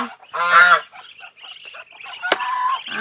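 Geese and ducks honk at feeding time on a farm, with a few loud, close, nasal calls in quick succession.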